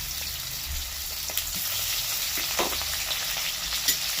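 Chopped onion and whole tomatoes fry in a pan with cinnamon and green cardamom, making a dense, close sizzle with a few pops and brief stirring clatters, and no talking.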